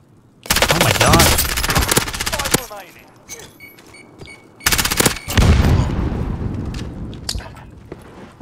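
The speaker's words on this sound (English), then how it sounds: "Was he the guy that was shooting at me?" Loud automatic gunfire from the Warzone battle royale video game, long sustained bursts of rapid shots in two main bouts, with quieter scattered shots and movement sounds in between.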